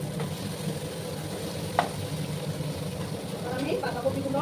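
Cabbage stirred with spices in a frying pan, a soft steady sizzle and scraping with one sharp clack of the utensil partway through, all fairly faint and continuous.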